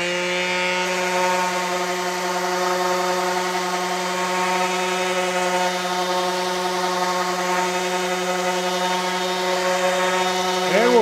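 A DeWalt DCW210 20V cordless random orbital sander running on high speed with 120 grit paper over saw-marked wood. It gives a steady, close, loud whine with a constant buzzing hum throughout and no talking.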